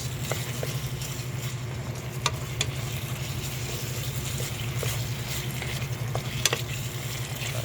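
Pork liver stew (igado) sizzling steadily in a pan while being stirred, a continuous close frying hiss with occasional light scrapes and clicks of the utensil, no talking.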